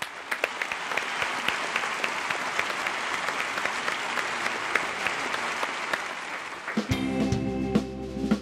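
Steady, dense applause from a TV studio audience greeting a singer, loud and continuous for several seconds before it breaks off and a musical tone with low hum takes over at the end.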